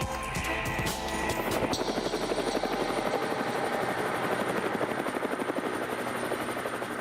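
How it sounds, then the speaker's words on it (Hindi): Rudra military helicopter heard close and loud, its rotor beating in a fast, steady chop with a continuous turbine whine over the full stretch, sharper bursts near the start settling into an even drone. "इस हेलीकॉप्टर का नाम ही इतना इंटरेस्टिंग है, रुद्र, जो कि भगवान शंकर के नाम से है।"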